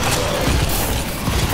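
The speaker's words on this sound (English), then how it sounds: "Reloading." Mechanical clacks and ratcheting of a weapon reload in Exo Zombies, a quick metallic sequence lasting about a second and a half, set against dense, loud game noise with no talking.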